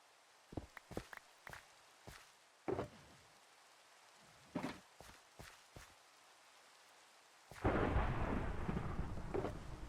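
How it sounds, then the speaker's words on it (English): Thunderstorm with rain in Minecraft: scattered footsteps and sharp thumps are followed by a loud crash of thunder that rolls into steady, hissing rain, all close and without talk. "Yay, for thunderstorm, it means I can sleep through it."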